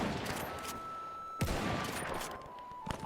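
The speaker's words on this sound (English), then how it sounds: "That's enemy artillery fire." Enemy artillery fires in Between Empires, a battlefield of sharp gunfire cracks and a heavy boom, with scattered volleys rolling on in the distance.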